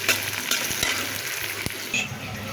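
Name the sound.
frying loitta dried fish with garlic and onion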